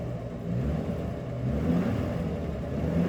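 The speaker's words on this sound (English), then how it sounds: "I'm going to go ahead and give it gas" Jeep YJ engine revving under throttle after a long warm-up, a steady low rumble that swells slightly and holds, close by with no talk.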